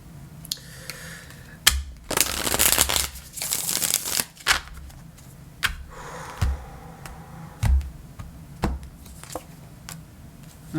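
A deck of tarot cards being shuffled by hand, a dense riffling burst followed by sharper taps and clacks of cards being cut and squared, close and fairly quiet.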